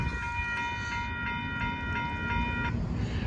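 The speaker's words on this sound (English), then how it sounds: "there goes Amtrak Texas Eagle 21 going by" Amtrak Texas Eagle 21, a late southbound passenger train, passes at Dittmar Road in Austin, Texas, with a steady loud rumble of wheels on rail and a sustained multi-tone horn chord that sounds for most of the pass and then cuts off.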